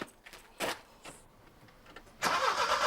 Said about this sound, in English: It was only when I heard the engine start that I saw he was in the car.